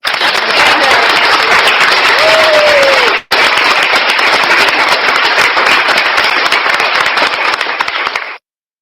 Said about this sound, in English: Give yourself a round of applause for being so great.